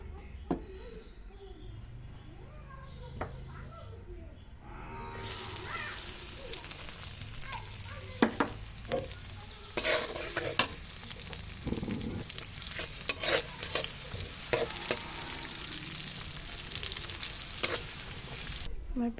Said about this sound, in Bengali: এখন আমি পেঁয়াজটা বেরেস্তা করে নেব উপরে দেওয়ার জন্য ডালের উপর।